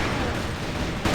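Heavy gunfire at a bombsite in the video game Counter-Strike, a steady loud wash of shots with a sharper burst near the end, commentary voice running under the firing.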